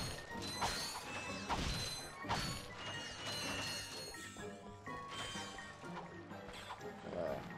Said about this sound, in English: Imagine getting one shot by a wrench.